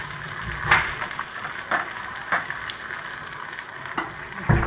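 Garlic and chili frying in a pan for homemade chicken hakka noodles, a steady soft sizzle with a few louder stirring scrapes and bursts spaced across the stretch, close by and without talk.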